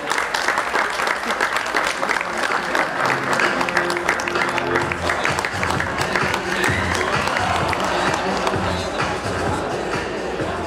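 Audience applauding at a video game expo awards ceremony after the fourth-place winner is announced, a dense, steady wash of clapping lasting throughout with crowd murmur and background voices mixed in.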